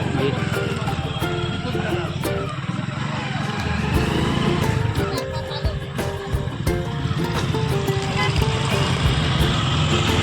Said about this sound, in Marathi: बघा गाड्यांचा सुळसुळाट आहे.